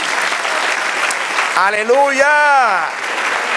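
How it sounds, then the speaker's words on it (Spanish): A church congregation applauds the Lord during a sermon, with a steady, loud burst of clapping that a voice rises above, calling out in praise. "Denle otro aplauso al Señor."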